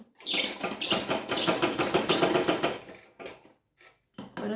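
A sewing machine stitches a blouse in steady whirring bursts, running continuously for about three seconds and then in short stop-start runs, close and loud with no talk.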